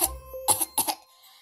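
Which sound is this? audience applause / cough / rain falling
cough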